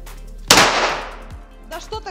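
A single sharp gunshot cracks loudly, its blast decaying over about a second, followed by a voice speaking briefly.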